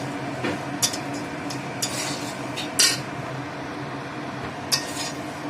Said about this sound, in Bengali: আজ থেকে রান্না করব, তাই জিরে ধনে সব ভাজা হচ্ছে।